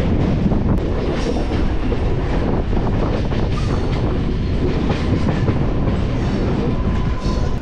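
A MEMU local train runs steadily at close range, with a loud continuous rumble and rhythmic wheel clatter on the rails throughout, with no voices over it.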